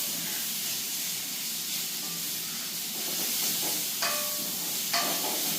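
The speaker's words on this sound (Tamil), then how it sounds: "தக்காளி பழம் அந்த வெங்காயம் எல்லாம் நல்லா வதங்கி வந்துடலாம்." Tomato, onion, green chili and curry leaves sauté in a hot pan, giving a steady, fairly loud hiss of steam and sizzle that runs unbroken, with a couple of light clinks near the end.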